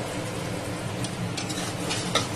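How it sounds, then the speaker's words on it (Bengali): Spice paste sizzling and being stirred in a hot pan for a rohu fish curry, a steady close frying hiss with a few soft scrapes of the spoon against the pan. "সামান্য একটু মিষ্টি দিয়ে দিলাম মশলাটা ভালো করে কষা প্রচণ্ড গরম"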